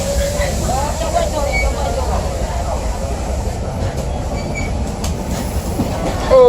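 A Myanmar passenger train runs from Golden Rock to Yangon, heard from inside a second-class carriage with a wooden floor. The wheels and carriage give a steady, loud rumble, with faint rail squeals rising and falling throughout.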